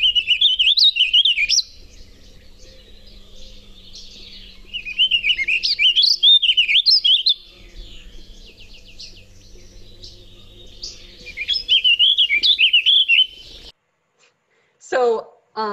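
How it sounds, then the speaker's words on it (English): A bird sings repeated bright, warbling phrases in bursts separated by pauses, with a low hum underneath and brief chirps near the end. "So this is what this guy sounds like."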